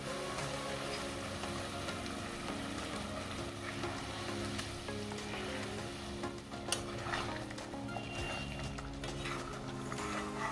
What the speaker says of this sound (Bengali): এবার ভেজে রাখা মাছগুলোকে দিয়ে দেবো।